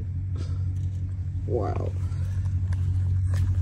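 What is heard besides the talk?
school bus arriving and idling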